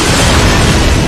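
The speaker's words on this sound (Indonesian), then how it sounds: "Jae-in tersentak dari tidurnya karena mendengar bunyi ledakan" A gas lighter left in a microwave bursts into a loud explosion, a dense, roaring blast of broadband noise that stays at full level for about a second with no voices.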